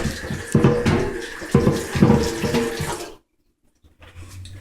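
Kitchen tap water pours steadily as a knife blade is rinsed, loud and close with splashing surges, then cuts off abruptly before a softer trickle returns.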